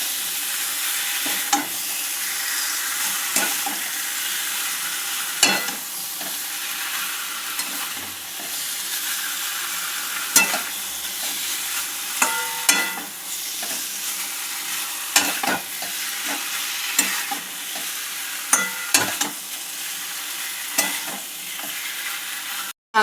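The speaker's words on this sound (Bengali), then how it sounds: "এবার মাংসটা ভালো করে মশলার সাথে কষিয়ে নিতে হবে" Marinated chicken stir-fried with spices in a pan, a steady close sizzle running throughout with frequent scraping stirs and clinks of the spatula at irregular intervals.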